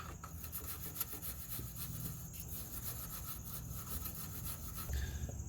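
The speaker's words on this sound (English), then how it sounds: "take a wire brush and just get off some excess rust" A wire brush scrubs rust flakes off the metal rear upper control arm area of a 2003–2009 Toyota 4Runner, a quick back-and-forth rasping that continues steadily and stays close, with no voices.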